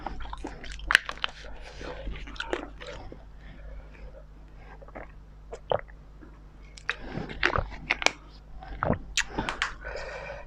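Close-up crunchy chewing and biting of a spicy shellfish salad, irregular crisp bites clustering in bursts with quiet pauses between them, near and fairly soft, with faint whispery sounds.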